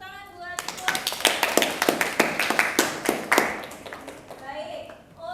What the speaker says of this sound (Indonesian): ayo dong tepuk tangan buat Puput.